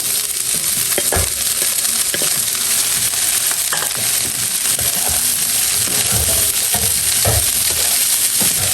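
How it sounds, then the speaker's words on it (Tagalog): Tofu fries in a pan with green chili and bird's eye chili, a steady loud sizzle running throughout with scattered clinks and scrapes of stirring. "Tapos ilalagay na rin po natin itong mga tofu na ating ipinarito"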